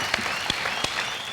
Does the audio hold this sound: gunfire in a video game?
no